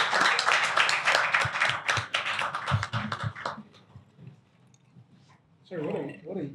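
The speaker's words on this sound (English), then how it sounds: "a round of applause for Mayo and Otunba as well." An audience gives a round of applause at a talk event, a burst of scattered clapping that fades after a few seconds into quiet, followed by a voice speaking.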